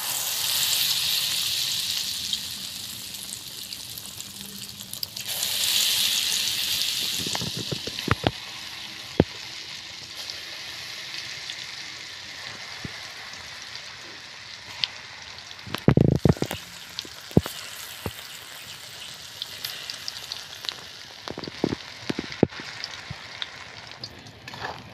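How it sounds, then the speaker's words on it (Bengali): Pakora made from the soft inner part of an ash gourd frying in oil: a steady, crackling sizzle like rain, with louder bursts and sharp pops partway through. "চাল কুমড়ের ভেতরে নরম অংশটা পকোড়া করছি"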